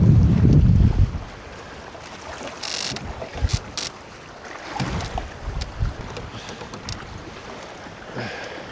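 Wind gusts across a pond while canoeing, with a loud rumbling buffet at the start, then steady blustery noise and faint water splashes against the canoe; no speech.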